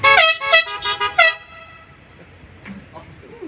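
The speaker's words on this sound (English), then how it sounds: "please honk your horn." Several car horns honking at a drive-in kickoff event, a burst of overlapping loud toots in quick succession, then fading into quiet outdoor background.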